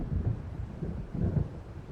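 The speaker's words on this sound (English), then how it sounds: "It seems there's a storm coming." Thunder from an approaching storm in the video game Alan Wake, heard as a low, rolling rumble that swells and ebbs in soft waves with no voices.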